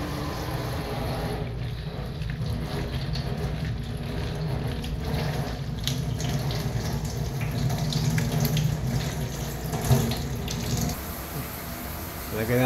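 Tap water runs steadily into a sink while pechay leaves are washed for pork sinigang, a continuous close splashing with faint handling clatter and a person talking over it.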